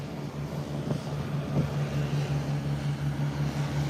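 A Cessna 402 twin-propeller aircraft taxis out on an airport apron, its steady droning engine hum continuous and moderately loud, with a couple of brief knocks early on.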